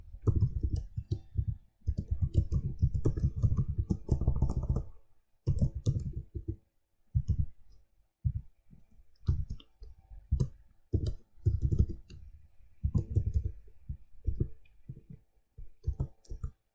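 C++ code is typed on a computer keyboard in close, quick bursts of key clicks, separated by short pauses and brief silent gaps.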